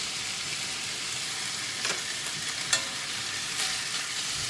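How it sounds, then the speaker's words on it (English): Beef steaks searing in a hot frying pan give a steady, even sizzle with a few brief pops and crackles, close and moderately loud, with no voices. "So you want to put your steaks just in the pan and you want to get them kind of brown and caramelised on the outside"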